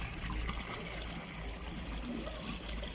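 Water pouring steadily at a roadside spring where people fill containers, a continuous close rushing trickle with constant level and no pauses, no speech.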